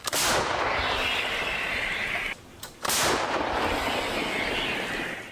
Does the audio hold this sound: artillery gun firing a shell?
yes